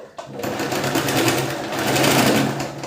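A sewing machine stitches a princess cut blouse in a fast, continuous run of rapid needle beats. It starts abruptly and stays close and steady throughout.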